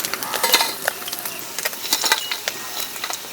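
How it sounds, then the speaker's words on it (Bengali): Fish fries in a pan with green chili and ginger, heard as a crackling sizzle broken by quick, sharp utensil clicks and scrapes at close range, with no voices. "কাঁচা লঙ্কা, আদা, মাছ লাল লাল করে ভেজে নিলাম।"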